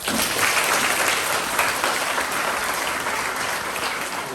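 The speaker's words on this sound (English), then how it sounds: "Can we give Caitlin another big clap?" Steady, full applause from a crowd of students and parents at a primary school presentation day, even in loudness from start to finish with no talk over it.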